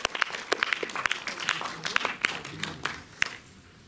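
A cinema audience at the Méliès in Montreuil applauds a film's director and translator, a brisk burst of clapping from a modest crowd that thins out toward the end.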